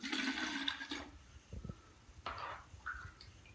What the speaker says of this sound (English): I'm gonna fill that one up with water.